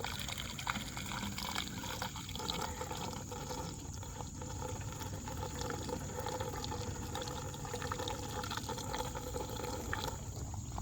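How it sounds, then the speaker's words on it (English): Settled gasoline poured from a gas can through a funnel, giving a steady, continuous liquid trickle and splash heard up close with no talk over it. "you take your gas can very carefully after it's been sitting for a while, and you just carefully pour it"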